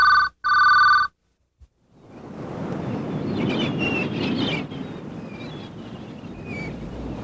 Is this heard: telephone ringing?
yes